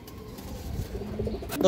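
A Gorra pigeon coos softly in a few low, throaty notes close by, with a faint voice and some rustling in the background.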